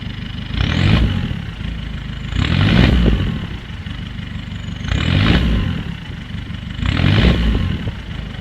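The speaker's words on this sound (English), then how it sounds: "due to that full system exhaust, this car actually sounds a lot different" Modified Honda Jazz diesel with a full system exhaust, revved four times in a workshop, each rev a loud, raw, rising rumble that falls back to a chattering idle between blips, heard up close without talking.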